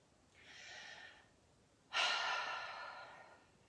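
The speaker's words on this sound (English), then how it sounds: "take a deep breath in through the nose and then out through the mouth" One slow, quiet inhale through the nose is followed by a louder, sudden exhale through the mouth that tapers off gradually; the breathing is close and soft, with no talking.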